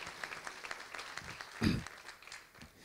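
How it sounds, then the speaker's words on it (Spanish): An audience applauds at an education session of a peace conference, a soft, continuous patter of clapping from a crowd at some distance, with one louder burst partway through. "Un aplauso para las paraguayas y los paraguayos."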